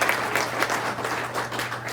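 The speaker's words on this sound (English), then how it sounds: "Let's give everyone a round of applause" Audience applause at a community meeting, an even, sustained patter of many people clapping, moderately loud with a faint low hum beneath it.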